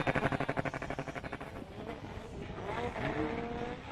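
Formula Drift car at the Texas round slamming into the tire wall after a hard drift, a loud pulsing engine roar giving way to rumbling impact and scraping noise, close and intense with no voices.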